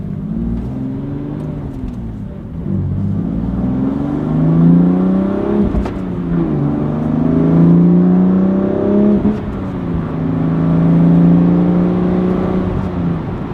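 A BMW M2 CS drives along with its engine pulling through rising revs and gear changes, a loud, close, continuous drone that climbs and drops in repeated waves.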